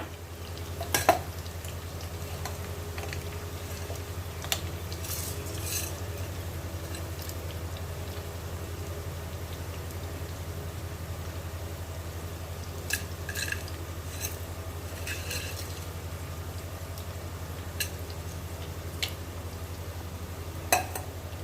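Sliced onions fry in oil with whole garam masala spices, cinnamon, green cardamom and cloves, for a mutton dish. A soft, steady sizzle runs throughout, broken by a few sharp clinks and scrapes of a utensil.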